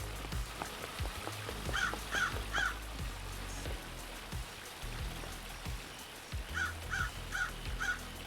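Crows caw in a video game, Paradise Killer, in short bursts of three or four calls, twice, over a soft patter like rain and scattered dull thumps.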